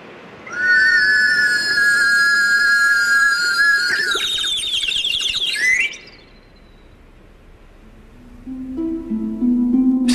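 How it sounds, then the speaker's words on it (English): A bright warbling whistle, a cup lowered into a tank of water, trills and chirps like birdsong, sliding in pitch, then cuts off; a low hum and brief tones follow. "Just a cup attached to a warbling whistle being lowered into a tank of water."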